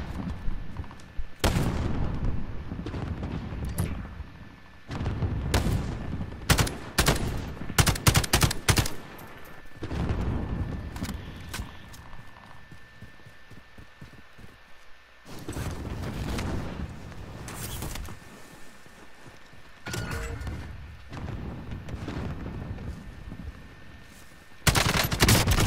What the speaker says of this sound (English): I'm not used to having the AUG full auto. I'm so used to having a 3-round burst.